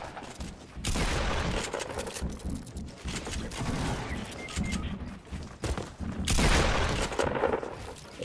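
Rapid gunfire from a Fortnite match rattles in dense, loud bursts with booms, separated by short pauses.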